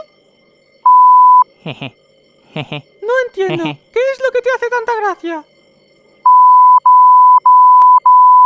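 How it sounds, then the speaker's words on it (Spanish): Loud, flat censor beeps cut in several times, one long tone then a rapid series of short bleeps, with a person speaking between them. "Los pitidos suenan solos para censurarme."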